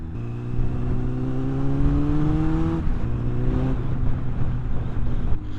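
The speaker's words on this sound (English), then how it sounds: "I do have an aftermarket exhaust on it, but it just sounds incredible." A loud Suzuki Bandit motorcycle engine with an aftermarket exhaust revs up through rising pitches, drops off, then picks up again with a deep, throaty exhaust rumble, close by.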